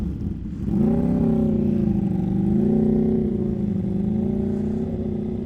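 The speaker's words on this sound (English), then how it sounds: "God, the fucking Ducati sounds disgusting." A Ducati motorcycle engine revs at a cars-and-coffee meet, rising from idle into a loud, sustained growl that holds near and steady with slight pitch swells, no talking over it.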